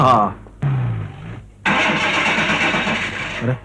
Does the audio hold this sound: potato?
no